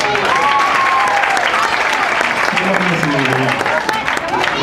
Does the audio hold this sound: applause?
yes